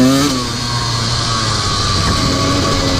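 A Honda CR125 two-stroke dirt bike engine runs close and loud, still cold, its uneven sputtering drone continuing throughout with no talk.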